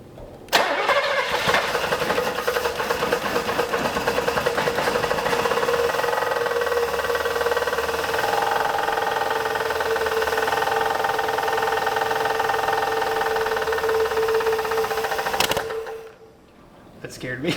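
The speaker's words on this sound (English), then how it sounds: "try to fire it up again and see if it'll actually idle this time with some fuel in it" A V8 Buick LeSabre left sitting for 34 years cranks and catches, then settles into a loud, steady idle with a droning hum and a faint whine before shutting off near the end.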